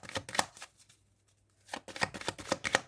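Tarot cards shuffled by hand in brisk, close riffling bursts, broken by a short quiet pause before the rapid flicking resumes.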